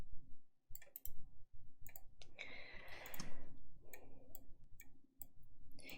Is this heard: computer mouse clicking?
yes